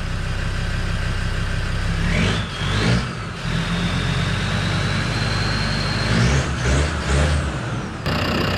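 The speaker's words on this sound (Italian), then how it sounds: "Facciamo anche un test con l'acceleratore." A 4x4 diesel engine idling and then revving in short bursts during an accelerator test after the fuel pressure regulator is replaced, loud and close with rising and falling engine pitch.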